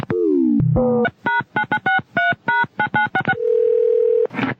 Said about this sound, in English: Let's call Sandy